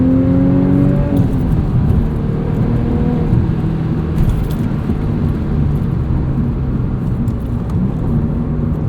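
A modified 2001 Audi S4 accelerates while driving, its engine a loud, continuous drone that climbs in pitch early on, heard close from inside the car.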